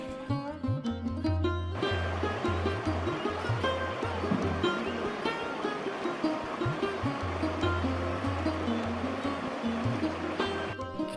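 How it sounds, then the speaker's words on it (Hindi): Flowing water of the Bhagsunag stream in Dharamshala, a steady rushing wash filling the whole stretch at constant loudness, with some tonal low hum and brief sounds layered in at the start and end. "आज भी लगभग पूरे धर्मशाला में भागसूनाग का ये पानी जो आप देख रहे हैं बह रहा है"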